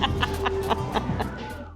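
A chicken in Ybor City, Florida, clucks in a quick, steady series of about seven sharp, close clucks, with a low background hum beneath.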